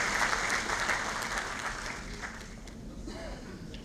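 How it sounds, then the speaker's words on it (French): Audience applause fills a ceremonial hall at the opening of a lawyers' congress, dense and steady clapping at first, then gradually thinning and fading toward the end. "Sous vos applaudissements, encore une fois."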